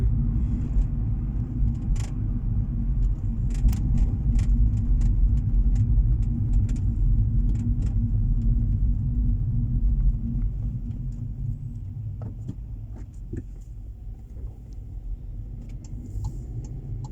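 A car rolls slowly through the streets of Dijon, a steady low engine rumble with road noise that holds constant and then eases slightly toward the end.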